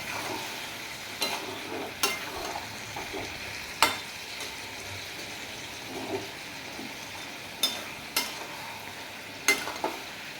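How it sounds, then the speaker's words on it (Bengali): Black and white mustard being stirred into a katla fish and potato curry in a pan, with a soft steady sizzle and about seven sharp scraping knocks of the spoon against the pan, spaced irregularly across the stretch. "কালো সর্ষে সাদা সর্ষেটা আমি এর মধ্যে দিয়ে দেব, ভালো করে নেড়ে চেড়ে নেব।"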